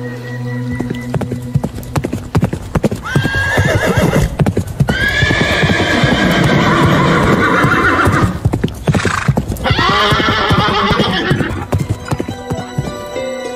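A horse in a forest, its hooves clip-clopping steadily and loudly throughout, with two long drawn-out neighs in the middle, close to the listener and with no talk.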